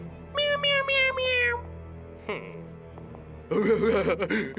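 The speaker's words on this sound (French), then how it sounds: "je crois que c'était qu'un petit chat" A drawn-out cartoonish cat meow rises and falls, followed shortly by a burst of voices and music-like sounds.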